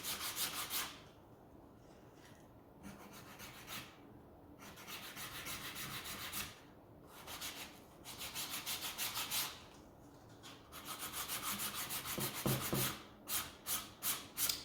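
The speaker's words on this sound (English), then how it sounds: "Let's go ahead and see if we can go through that finish a little bit. This 100 grit sandpaper" A leather holster being distressed with 100 grit sandpaper: repeated close rasping strokes in rhythmic bursts, pausing between passes and quickening to short, rapid rubs at the end.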